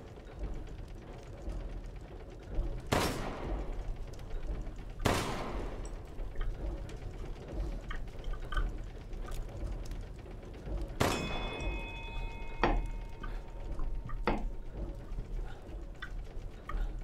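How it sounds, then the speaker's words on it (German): Gunshots hit bells in Resident Evil Village, producing several loud cracks, each followed by a clanging ring that lingers and fades, spaced apart with quieter game ambience between them. "Lass die 5 Glocken erklingen."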